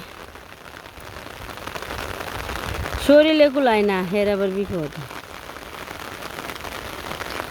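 Steady rain pours over a rural paddy-field area, a dense hiss lasting throughout, with a voice speaking briefly over it midway.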